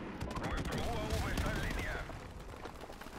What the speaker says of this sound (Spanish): Me están disparando a través de aquí, tío.